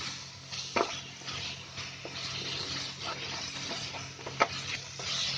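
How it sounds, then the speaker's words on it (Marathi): Tomato paste gravy with oil and salt is stirred in a pan over a high flame, with soft scraping strokes, a faint sizzle and a couple of sharp utensil clicks against the pan. "तेल आणि मीठ टाकल्यावर आहे ना 1 मिनिट असं चांगलं हलवायचं म्हणजे तेल मग त्याच्यामध्ये मुरतं"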